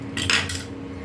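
A metal pressure cooker lid is opened after cooking toor dal, giving a short, close metallic clank and scrape that stands alone without talk.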